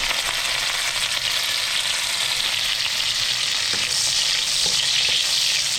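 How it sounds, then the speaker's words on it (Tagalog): Garlic sautés in a pan as a loud, dense, continuous sizzle that crackles steadily throughout, with no talking. "gisa na po natin"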